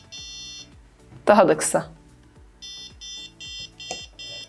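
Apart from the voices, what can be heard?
parking sensor buzzer beeping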